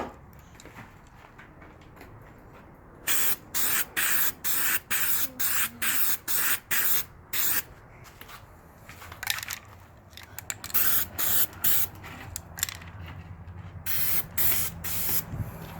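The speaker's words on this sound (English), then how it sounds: "And then I just spray it upside down to clean out the nozzle." An aerosol can of 3M weld-through primer sprays in a rapid series of short, sharp hissing bursts, about a dozen close blasts with brief gaps, followed by more irregular sputtering sprays during a truck cab rust repair.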